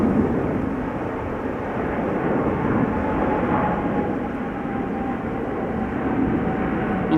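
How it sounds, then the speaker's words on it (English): A KLM Boeing 777-300 jet airliner on flight 597 to Cape Town, a steady broadband engine roar holding even and moderately loud throughout, with a faint thin tone running beneath at an airport. "That would be a KLM 777-300 by the looks of it."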